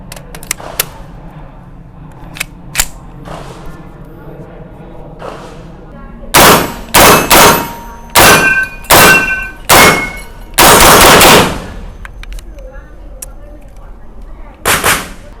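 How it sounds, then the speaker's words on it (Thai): B&T APC9 submachine gun test fired, with several loud sharp shots and short rapid bursts crowding the second half after quieter handling noise and faint speech early on. "ขอทดสอบยิงกันเลยก่อนดีกว่า"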